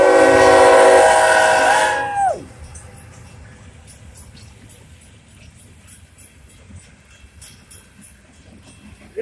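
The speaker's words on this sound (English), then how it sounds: "it's our third train we got today" A loud CSX freight train horn blasts for about two seconds, then fades into quiet outdoor rumble with faint rail noise and occasional distant knocks.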